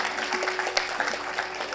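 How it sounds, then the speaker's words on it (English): Audience applause at the felicitation of a guest at a Dharma Dhamma conference session, a steady spread of clapping carrying on evenly for the whole stretch at moderate, slightly distant level. "ladies and gentlemen, huge round of applause while we felicitate our guest"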